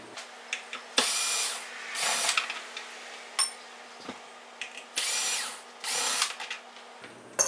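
Cordless drill with a weakening battery backing out screws from a Boss Katana Artist MK1 guitar amplifier: several short whirring bursts close by, separated by quiet gaps with small clicks and ratchet ticks, no talk.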